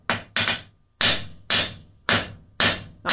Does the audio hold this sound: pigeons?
no